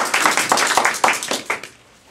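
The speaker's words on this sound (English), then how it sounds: "Let's give them a round of applause." A small audience at a Toastmasters new member orientation gives a short burst of hand clapping, a few uneven claps fading out within about two seconds.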